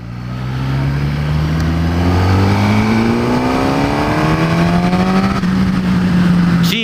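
A 2016 Suzuki GSX-S1000, a 1000cc motorcycle, revs up and climbs steadily through a long rising engine whine, loud and close, with no talking over it.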